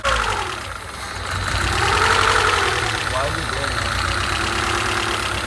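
A rebuilt Honda D15B engine idles after its first start, a steady mid-pitched running rumble with some ticking and vibration, close and loud, while a person talks over it.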